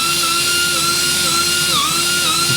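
A power grinder smoothing out small wrinkles in a recovered seat cover on a Suzuki TS-250 motorcycle, running as a steady high-pitched whine close by, alone and continuous throughout.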